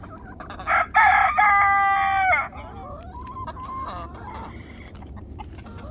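Backyard chickens being fed broccoli leaves, with a rooster crowing loudly up close, followed by softer clucking and squawks from the flock.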